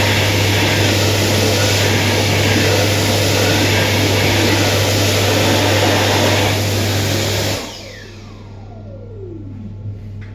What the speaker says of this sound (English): typically for Z the hand dryer is a Dyson Airblade DB